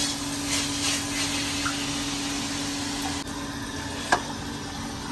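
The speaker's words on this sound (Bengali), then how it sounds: "তো শাক ভাজি করে নিয়েছি" Leafy greens fry in a pan on a single stove burner, a steady, soft sizzle with a few faint clinks near the end and no one talking.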